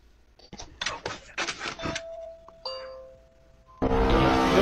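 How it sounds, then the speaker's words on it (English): A two-tone doorbell chime rings out after a few seconds of talking, followed by a burst of louder, busier noise. "Doorbell."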